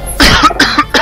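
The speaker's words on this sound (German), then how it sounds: "Nochmal durch und husten." A person coughs several times in a quick burst, close to the microphone, with strong harsh bursts and short gaps between them.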